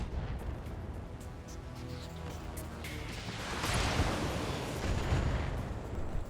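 Heavy weapons fire pounds a vehicle until it is destroyed in the mech combat game BattleTech, a continuous loud rumble of booming impacts and blasts that swells into a bigger explosion partway through.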